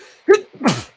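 A person sneezes close up, a sharp intake followed by a loud, breathy burst, the whole sneeze over in under a second.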